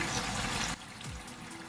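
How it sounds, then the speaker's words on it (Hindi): Water gushes into a pot of mutton curry, several glasses poured in turn, a loud, close splashing that stops abruptly, then a quieter burble afterward. "4 ग्लास हम डालेंगे पानी।"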